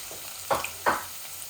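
Tilapia fish frying in oil in a pan, with two short bursts of sizzle and spatter, as if the pieces are stirred or turned, over a low steady background.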